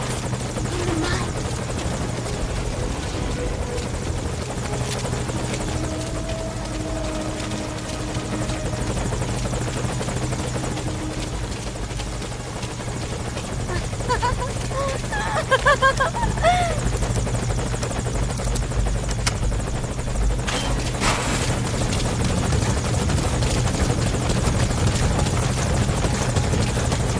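Helicopter from Metal Gear Solid V: Ground Zeroes, a continuous loud rotor thrum and engine buzz that persists throughout, with faint game sound effects and brief tones layered over it.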